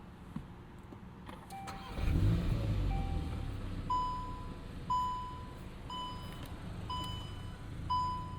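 A 2024 Volkswagen Golf R six-speed manual hot hatch fires up about two seconds in with a loud low rumble, then settles into a steady idle while a dashboard chime repeats roughly once a second.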